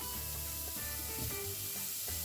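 Sausages dropped into a hot pot with no oil, giving a steady close sizzle and frying crackle that runs throughout with faint stirring scrapes.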